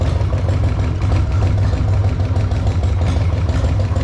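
Harley-Davidson Sportster engine idling hot with a hydraulic lifter knocking in the front cylinder, a steady low, loud rumble with a faint fast ticking clatter running through it, close and alone with no talk.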